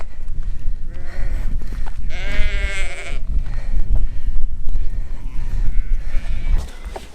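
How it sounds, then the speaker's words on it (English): A sheep bleats loudly nearby once, a wavering cry over steady wind and rustling outdoor noise in wet Sligo countryside, with fainter bleats further off. "This morning we are the Pied Pipers of sheep."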